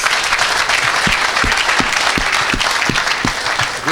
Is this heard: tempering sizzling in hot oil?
no